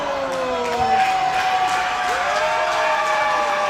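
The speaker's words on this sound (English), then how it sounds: "Listen to the crowd here at the Bullet come alive" A wrestling crowd at the Bullet cheers and shouts after a suplex to the floor in a coffin match, a loud, sustained roar with whoops and some applause.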